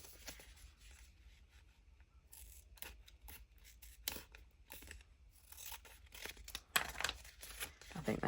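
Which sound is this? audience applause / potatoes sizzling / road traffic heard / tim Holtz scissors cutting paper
tim Holtz scissors cutting paper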